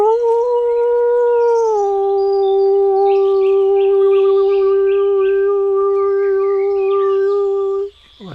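A human voice imitates a dog's howl, one long sustained tone that steps down in pitch and holds for several seconds, loud and close with no other sound.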